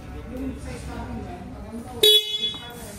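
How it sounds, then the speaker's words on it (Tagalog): A car horn sounds one short, loud honk during a vehicle walkaround check of lights, signals and brakes, with a voice talking around it. "Busina."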